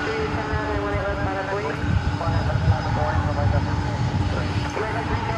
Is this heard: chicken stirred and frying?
no